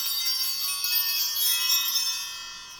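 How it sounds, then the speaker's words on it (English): Small bells ring to open a tarot reading, a bright, shimmering jingle that sustains steadily and fades slightly at the end, with no voice over it. "let me just ring the bells and create sacred space around this reading"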